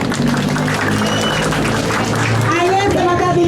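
An audience claps for a Balinese Prembon dance-drama at Pura Jlih Lambih, Pekambingan, Denpasar. Brief, lively clapping stays loud under steady talking for a few seconds.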